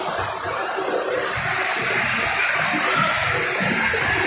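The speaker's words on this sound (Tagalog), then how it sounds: "Lakas ng electric fan, maingay dito." A loud electric fan in a shopping mall gives off a steady, broad whooshing drone that stays constant throughout, close and continuous, with no voices over it.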